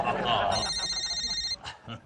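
Telephone bell ringing in an Indian office comedy scene, a bright trilling ring for about a second right after a burst of speech, with further talk around it.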